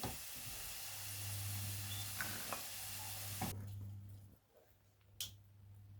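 Broadband sizzling hiss from liver frying in a hot pan, with a few clicks and a low hum, then the frying drops away abruptly partway through.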